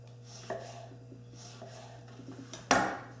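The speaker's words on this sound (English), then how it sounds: "you make thin slices out of it." Thin slices are cut from a halved lemon to make garnish twists, giving soft close knife cuts against a board with a sharper chop near the end, set over a low steady hum.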